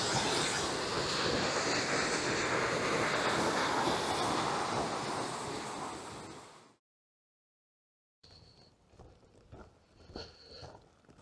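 Water rushing over a drop of a few feet in a Lake District stream near Crummock Water, a loud steady broadband roar that cuts off abruptly, followed by quieter outdoor sounds.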